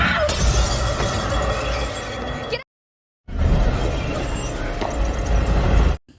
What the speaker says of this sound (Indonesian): sehingga membuat kaca rak minum pecah